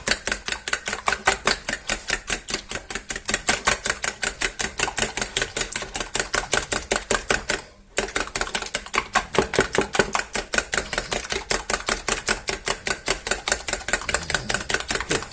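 Eggs are beaten briskly in a bowl for a small Galician-style omelette, with fast, even tapping strokes close to the listener and one brief pause halfway.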